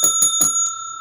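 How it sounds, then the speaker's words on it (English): A small bell rung three times in quick succession, bright metallic rings close and fairly loud, with a steady high ringing tone sustained underneath and a fainter fourth strike. "You need the bell."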